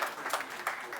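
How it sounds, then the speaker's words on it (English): A brief burst of audience applause, many hands clapping in a scattered patter for about a second, with voices mixed in. "let's have a little round of applause"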